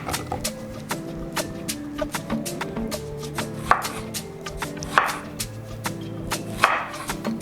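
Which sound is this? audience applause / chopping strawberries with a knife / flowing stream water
chopping strawberries with a knife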